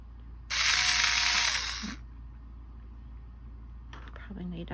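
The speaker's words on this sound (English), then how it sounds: "And then I'm just going to drill a hole on the top of his head here." A small drill bores a hole into the top of a craft figure's head in one loud, high whirring burst of about one and a half seconds, with a shorter, fainter mechanical burst near the end.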